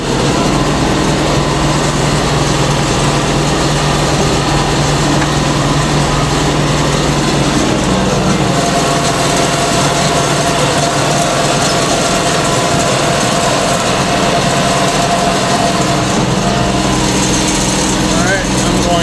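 A loud tractor engine drones steadily throughout, close by and unchanging, with a rough mechanical rattle underneath, while spreading seed on a pasture.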